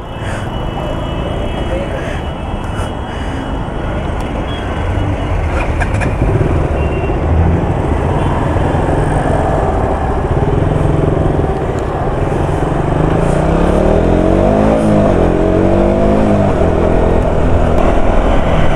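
Dense Mumbai road traffic heard from a KTM Duke motorcycle: a steady, loud wash of engines and wind noise with passing vehicles throughout, and a rider's voice talking over it.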